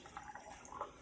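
Juice poured into an extra-large shot glass gives a brief, soft, liquid trickle with a faint gurgle, close up and quiet.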